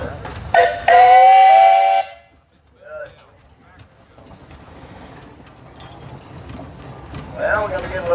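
An antique two-cylinder steam engine at a tractor show parade gives a loud, steady whistle blast lasting about a second, then cuts off. Quieter background noise and distant voices follow.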